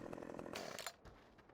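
Chainsaw running in the Farming Simulator 15 video game, a buzzing two-stroke engine that revs briefly and then drops to a quieter idle, heard alone and at low volume.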